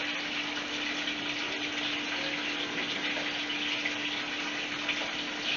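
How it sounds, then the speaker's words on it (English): Running tap water streams steadily while hands are washed at a kitchen sink during cooking, a continuous close gush with a faint steady hum beneath and no talking. "I'm cleaning and washing my hands as I go along"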